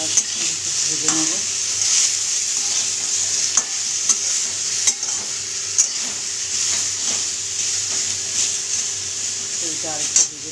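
Vegetables for sukto fry with salt in a pan: a continuous, fairly loud sizzle broken by regular scraping stir strokes and occasional spoon taps against the pan, with no voices.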